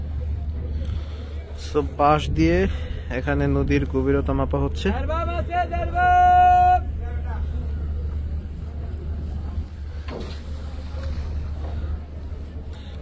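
A passenger launch that has left Ghosherhat creeps slowly along a shallow river, its engine a steady low drone beneath continuous speech.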